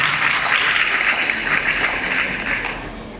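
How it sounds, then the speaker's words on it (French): Loud, sustained applause from a large crowd at a university event, continuous clapping that fades slightly toward the end. "Veuillez applaudir pour vous-même."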